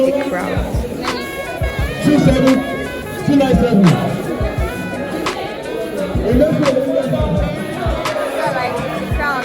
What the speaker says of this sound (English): Let me give you a little view of the crowd.